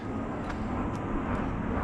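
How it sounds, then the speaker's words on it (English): A fixed-wing airplane passing unseen overhead during a solo overnight in a forested creek gorge, heard as a steady, broad, distant engine roar with no talk. "an airplane going by. Can't see it, but it's there."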